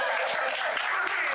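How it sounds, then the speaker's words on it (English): Comedy club audience applauding at a stand-up show, dense crackling clapping that stays loud and even throughout the short burst. "everyone please give a round of applause to Liz."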